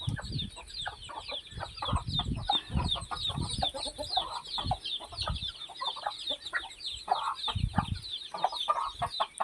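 Several chickens clucking and squawking close by, busy overlapping calls with rustling and scuffling, continuous throughout.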